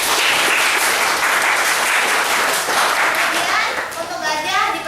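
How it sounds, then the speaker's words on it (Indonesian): Schoolchildren at a junior high school applaud loudly, a dense, close wash of clapping hands with children's voices mixed in, sustained throughout and dipping briefly near the end. "Untuk harimau kita berikan tepuk tangan."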